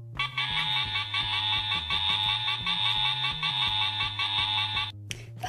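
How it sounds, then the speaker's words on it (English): A cartoon fire station emergency alarm rings, a continuous shrill electronic tone over a hopping low melody for about five seconds before stopping abruptly. "That's the emergency alarm."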